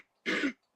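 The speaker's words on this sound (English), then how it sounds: "I'm gonna clear my throat to the point where it gives me hiccups" A man clears his throat once, a short, rough, close-up rasp lasting about a quarter second, with the start of another sound cut off at the end.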